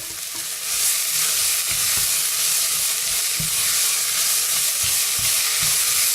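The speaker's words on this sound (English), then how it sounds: "I'm just going to stir this round for about 30 seconds to a minute until the brown rice starts to become see-through" Brown rice is stirred in a hot pan, giving a steady frying hiss with soft, irregular scraping knocks from the spoon, close and continuous throughout.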